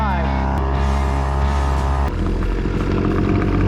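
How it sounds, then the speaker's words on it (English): A small outboard motor on a pedal boat drones loudly and continuously up close, its pitch shifting as it revs, then settling into a steady buzzing hum. "a pedal boat with an outboard motor"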